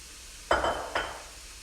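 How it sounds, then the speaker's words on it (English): Zucchini noodles with meat sauce hit a non-stick frying pan preheated on high heat, giving two quick, loud sizzling bursts in a quiet kitchen. "you wanna hear that sizzle. That means my frying pan was already nice and hot."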